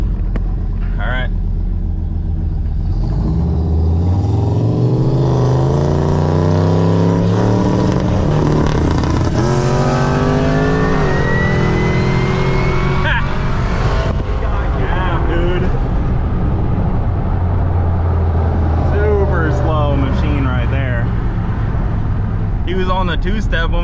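Cars roaring at full throttle during a roll race, loud and close, engines rising in pitch through several gear changes with overlapping vehicles, under excited talk from people in the car.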